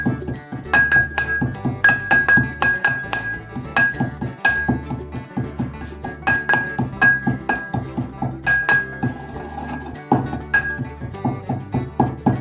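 A mortar and pestle coarsely crushes homemade spices for an amla pickle, with repeated sharp, ringing clinks and dull thuds in uneven bursts, close and fairly loud, with no talking.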